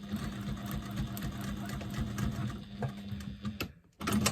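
Sewing machine stitching around the edge of a fabric bag: a steady, close mechanical whir with rapid needle clatter that cuts out briefly near the end, then starts again.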